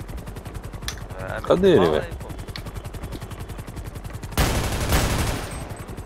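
Gunfire in the video game GTA 5 during a police roleplay chase: a dense burst of shots around the middle, then a louder broadband volley near the end, with someone speaking briefly in between.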